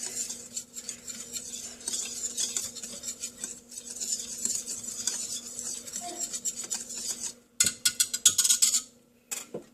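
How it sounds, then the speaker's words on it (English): Dry pancake ingredients, flour with sugar, are whisked in a bowl, producing rapid rhythmic scraping and clicking of the whisk against the bowl, then a few sharper taps at the end. "so you're going to whisk all of this together."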